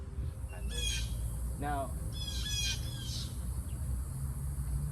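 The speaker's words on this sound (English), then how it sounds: "birds are everywhere over here over my head" Several birds call overhead outdoors, a run of clear chirps and short squawking calls spread across a few seconds over steady background noise, with a brief word spoken near the start.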